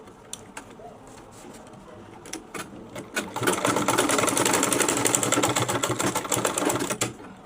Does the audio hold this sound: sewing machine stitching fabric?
yes